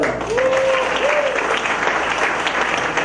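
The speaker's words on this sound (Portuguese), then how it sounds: "Que vocês dessem um salve de palmas pra ela." An audience at a Belcorp sales event in Sobral claps together in a brief burst of applause, with a voice sliding through the crowd noise.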